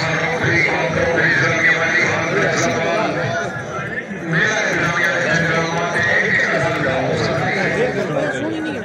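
A horse whinnies and neighs amid a busy outdoor crowd, with hoof clip-clops mixed into constant chatter and talking voices that run through the whole stretch.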